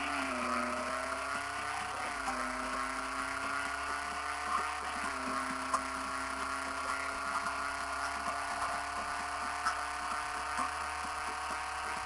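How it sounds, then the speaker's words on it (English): Limo driven in a mobile driving simulator game, a steady synthetic engine drone with slight pitch dips and rises throughout, continuous and fairly loud with no talk. "Limo driving experience."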